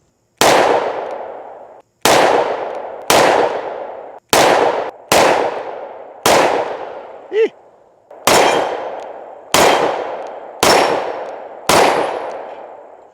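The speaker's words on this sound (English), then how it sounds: "Because everybody loves a good mag dump, we gotta do 2 of them." Rapid shots from a Springfield XDM Elite Compact 10mm pistol ring out loud and close, about eleven sharp cracks with ringing tails and a brief pause midway, part of a magazine dump at an outdoor range.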